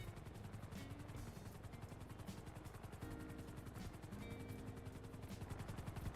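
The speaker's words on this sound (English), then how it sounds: "here comes the heli." A video game helicopter arriving in Grand Theft Auto: its rotor thumps steadily through dense, rumbling noise, with bursts of gunfire mixed in, loud and continuous throughout.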